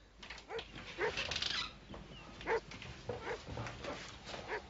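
An injured Briard dog with a head cut makes soft whimpers and short yelping whines in a quiet room, several brief, fairly faint cries in an irregular rhythm.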